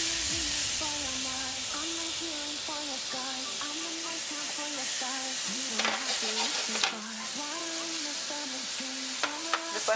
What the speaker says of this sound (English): I'm going to add some of the minced garlic to the pan. I have some coconut oil in here that's already heated.